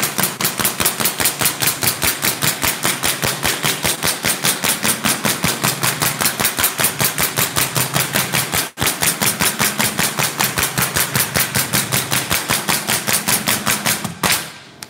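Bostitch staple gun firing 3/4 inch staples in a rapid, evenly spaced string of loud, sharp snaps, roughly five per second, pausing once briefly before carrying on.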